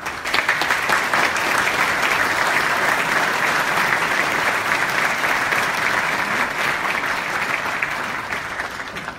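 A large audience in Melbourne gives sustained, dense applause to welcome guest Bob Roth, a thick wash of clapping that stays loud and even before tapering slightly at the end.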